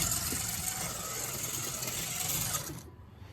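Revo slot car, a red Ferrari, running on a track with a steady high whirring motor whine and rattling buzz that holds nearly constant before cutting off abruptly near the end, fairly close.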